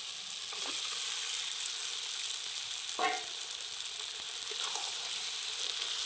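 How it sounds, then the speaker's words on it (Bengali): Marinated chicken hits hot, well-fried masala in a pan, setting off a loud, steady sizzle with a few brief scraping stirs. "এইবার আমি মেখে রাখা চিকেনটা দিয়ে দিচ্ছি"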